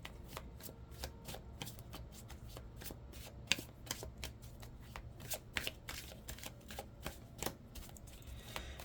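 A deck of oracle cards is shuffled close by in a quick, continuous run of soft riffling flicks and taps, steady and fairly quiet throughout.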